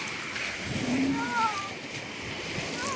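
Strong sea waves wash in steadily at the beach at Gold Coast Morib, a continuous near surf roar with faint voices in the background.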